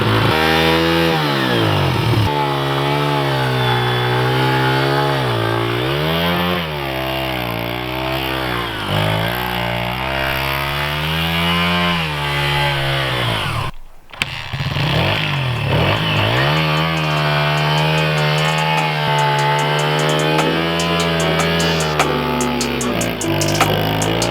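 A 1993 Honda XR80 dirt bike engine, a barn find revived after sitting for years, kicked into life and running loud and close, revving up and down in waves with a brief cutout midway.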